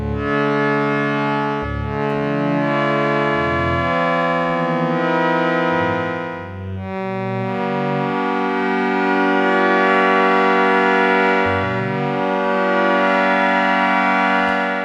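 A Casio Casiotone 405 keyboard in synthesis mode with both modulation switches engaged plays sustained, bright, buzzy polyphonic tones that waver and leap up an octave as notes are held, loud and close with no voices.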